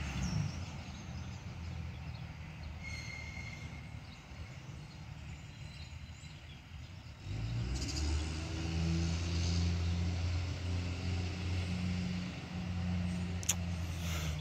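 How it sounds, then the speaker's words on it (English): A diesel truck rumbles past on a country road, a steady low engine drone that grows louder and heavier about halfway through as it draws nearer, with no talking. "Sorry, I got a lot of diesel truck coming through."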